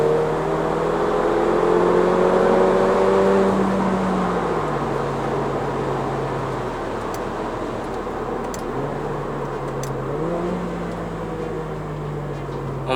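A 2018 Mercedes-Benz GLA45 AMG accelerates hard to overtake, its engine a steady, loud drone heard from inside the cabin that rises in pitch, eases off and climbs again, with no talking.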